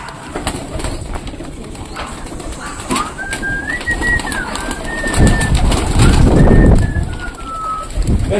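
Pigeons coo in soft, repeated rolling calls close by, with wing flutters and rustling over a steady background hum.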